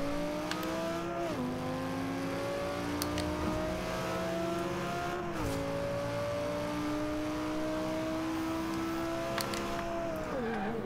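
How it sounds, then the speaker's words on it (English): V10 engine of a 2011 Lamborghini Gallardo LP570-4 Superleggera in the racing game Forza Horizon 2, revving up steadily through repeated gear shifts with clear drops in pitch, heard alone at moderate level. "Yeah, I like the sound of that V10 engine."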